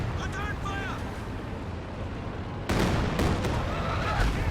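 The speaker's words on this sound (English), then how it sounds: "we got the concentrated fire operation coming in" A concentrated fire artillery barrage lands in the Company of Heroes 2 strategy game, with heavy, rumbling blasts kicking in sharply partway through over ongoing battle noise, while a voice talks in the first half.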